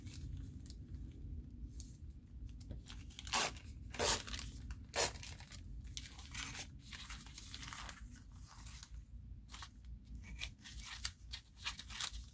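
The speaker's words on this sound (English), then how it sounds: "So I'm gonna give it a tear." Printed paper background made on a jelly plate being torn by hand, a series of crisp ripping and crinkling bursts spread across the clip, close and moderately loud, with no talking.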